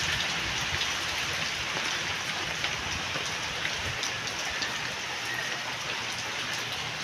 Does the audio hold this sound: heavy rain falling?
yes